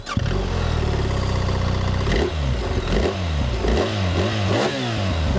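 BMW R 1300 GS Adventure motorcycle fitted with an aftermarket end can, idling with a deep rumble and then blipped through several sharp revs that rise and fall, loud and close with no talking.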